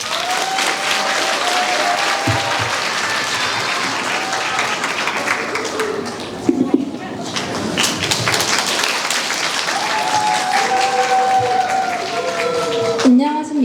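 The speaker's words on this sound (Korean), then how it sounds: "큰 박수로 맞이해 주십시오." An audience at a high school admissions information session applauds to welcome student speakers. The clapping is loud, dense and sustained from start to finish, and a voice comes in briefly near the end.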